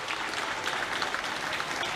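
Supporters applauding loudly at one end of Downing Street, London, as a new Prime Minister arrives: a dense, steady wash of clapping from a sizeable outdoor crowd that fills the whole moment.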